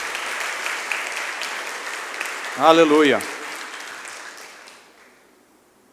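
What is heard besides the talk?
church congregation applauding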